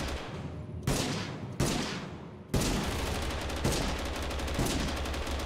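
Gunfire in the video game Totally Accurate Battlegrounds, several loud close shots that each hit suddenly and decay, then rapid sustained automatic fire with repeated bursts, and no talking.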